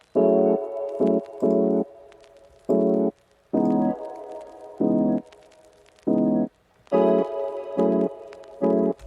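A chopped music sample repeats in short chord stabs with gaps between them, overlaid with faint vinyl-style crackle and pops.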